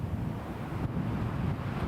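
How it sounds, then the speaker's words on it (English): Wind gusts buffet a spotting scope and the microphone on a backcountry blacktail deer hunt, producing a constant loud rumbling roar with no voices. "there's a wind gust that's like moving the spotting scope around"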